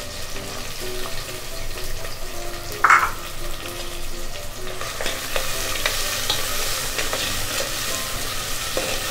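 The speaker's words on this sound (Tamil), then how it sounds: "இப்போ வெங்காயம் போடுறேன்." Onions sizzling and frying in oil in a pan for spicy crab rasam, a steady close hiss with occasional stirring scrapes and one brief louder burst near the start.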